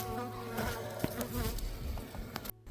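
Honeybees buzzing close around a beekeeper at a hive after a freeze, a dense steady drone with individual bees swelling nearer and fading, continuous and fairly loud with no talking.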